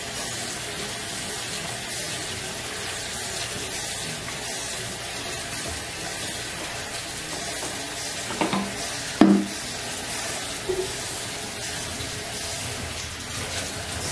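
Powerade poured into an emptied Fabuloso cleaner bottle, a steady low liquid flow with faint splashing and trickling throughout, a few brief louder knocks near the end, no talking.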